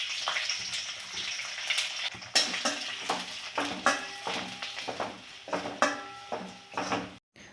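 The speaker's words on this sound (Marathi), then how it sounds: "आता भाजीला खमंग अशी दणदणीत फोडणी द्यायला लागले" A spice tempering crackles and sizzles in a pan for bhogi vegetable curry, with rhythmic stirring and scraping strokes of a spoon against the metal, close and steady, and no talking.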